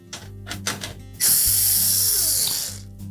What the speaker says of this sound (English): We'll simply remove the screws that secure the access panel in place.